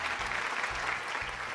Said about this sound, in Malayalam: സൂരജിനൊരു നല്ല കൈയടി കൂടി കൊടുത്തേ